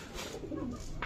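A pigeon gives a single soft, low coo at close range, followed by a brief knock.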